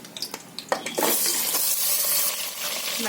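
Mutton pieces dropped into hot oil with whole spices in a pressure cooker, a few clinks and splashes giving way to a loud, steady sizzle and crackle close by.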